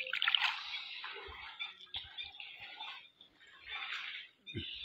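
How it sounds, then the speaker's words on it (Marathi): Floodwater flows in and rises around the Dattatreya shrine at Shri Kshetra Panchaleshwar, a steady broadband rush of moving water with a few soft low knocks, fairly loud and continuous with brief dips, no talking. "आता स्थानावर पाणी यायला लागलं"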